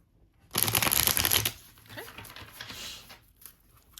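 Soul contract oracle cards shuffled briskly in a loud rapid riffling burst lasting about a second, followed by softer shuffling rustles and faint handling noise.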